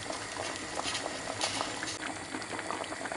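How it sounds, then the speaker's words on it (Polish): Meatballs simmering in broth in a pot over lower heat, with tomato concentrate added, giving a steady close bubbling and pattering boil with small pops, continuous throughout and no voices. "niech się pogotują troszkę na mniejszym ogniu z 10 minut"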